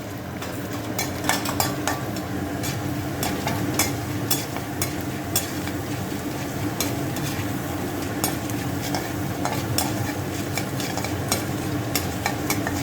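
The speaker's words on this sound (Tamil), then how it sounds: "உளுந்தும் வறுபட்டு போச்சு, செவந்து போச்சு பாருங்கள்" Urad dal roasting in a pan for banana flower thuvayal, stirred continuously with a utensil that taps and scrapes the metal in a quick irregular rhythm over a constant low sizzle, close and loud with no voices.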